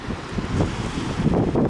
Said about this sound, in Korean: 오늘 낚시는 바람 때문에 망한 것 같아요.